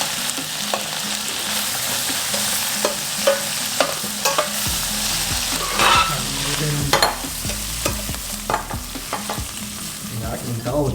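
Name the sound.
jerk shrimp cooking in pot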